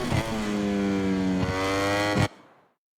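Racing motorcycles in the video game MotoGP 22, a loud high-pitched engine whine that holds and shifts through gears before cutting off abruptly, leaving silence.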